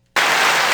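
A soundboard button sets off a canned applause effect: dense, loud clapping begins abruptly after a moment of silence and stays at full level to the end.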